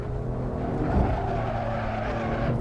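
A BMW M4 skids on the Nürburgring, its tires sliding with a sustained rough screech over a steady engine drone, loud and close, with a slight swell partway through.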